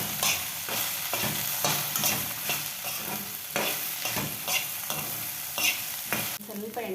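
Okra (lady's finger) frying in plenty of oil, stirred steadily: a continuous close sizzle broken by repeated scraping strokes of a spatula in the pan, with a brief clatter near the end and no talking.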